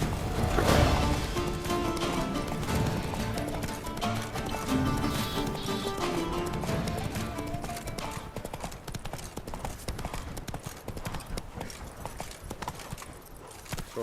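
Horse galloping in The Witcher 3, loud rhythmic hoofbeats throughout, strongest early and gradually easing, with scattered clatter over them.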